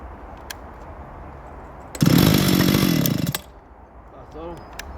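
Small chainsaw running: a loud burst of raspy two-stroke engine buzz that starts abruptly, holds for about a second and a half with a rattling idle, then cuts out, with people talking faintly nearby.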